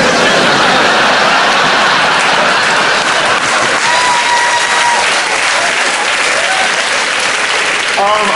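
Dense, steady applause from a comedy show audience, loud and continuous like heavy rain, with a faint voice briefly audible near the end.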